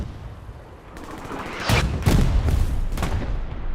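Bombing run in the Hell Let Loose game on the Carentan map: heavy booming blasts and rumbling gunfire crowd together in a dense, loud barrage with no voices.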